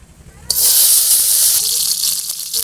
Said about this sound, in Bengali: তেলটা গরম হয়ে গেছে, এবার আমি প্রথমে কাঁকড়াগুলো দিয়ে দেবো